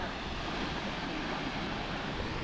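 Mae Surin waterfall in Mae Hong Son, heard from a viewpoint as a constant, even rush of falling water, a dense wash of sound with a little wind and no speech.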